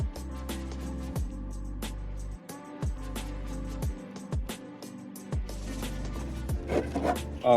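Repeated rasping strokes of hand sanding on hard plastic Mandalorian armor, close and steady in rhythm, with a low hum underneath.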